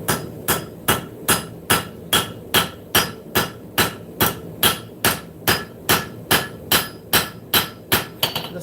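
A cross peen hammer forges hot steel on an anvil with about nineteen loud, evenly spaced ringing blows in a steady rhythm, close up in a shop.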